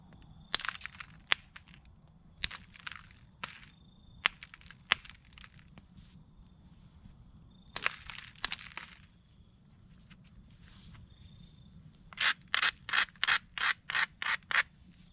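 A stone being flintknapped, flipped back and forth to take off a square edge: scattered sharp clicks and scraping strikes, then a closing run of eight quick, evenly spaced abrasive rasps. No talking.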